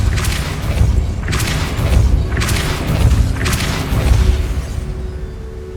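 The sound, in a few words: Depulso spell cast in Hogwarts Legacy video game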